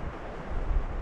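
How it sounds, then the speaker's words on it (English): Wind gusts through trees beside a single-track trail, heard as a short, low, rumbling rush that swells slightly partway through. "whether you can hear this wind noise coming through the trees"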